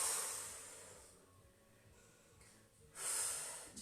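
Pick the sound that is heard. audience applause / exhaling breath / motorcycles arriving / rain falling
exhaling breath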